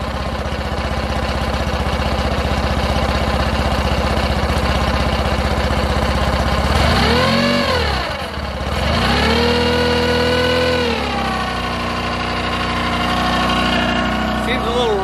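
Mercury four-stroke outboard engine idling roughly, a steady uneven mid-pitched chug close by, with a brief dip and rise in revs midway; people talk over it.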